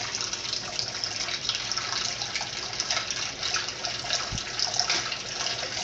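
Cold water runs from a tap into a sink drain in a steady, close, rushing stream with no pauses.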